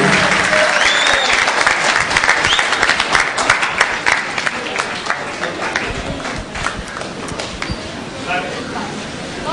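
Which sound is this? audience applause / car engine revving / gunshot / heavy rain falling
audience applause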